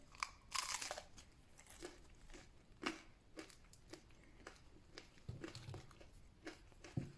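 Crusty homemade baguette baked in a My Gourmet bread machine being chewed close up: crisp, irregular crunches and bites at a quick, uneven pace, quiet overall with no talking.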